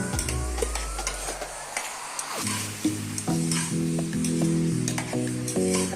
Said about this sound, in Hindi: अच्छे से इसको भी 10 से 15 सेकंड भून ले तमाम मसालों के साथ सब्जी को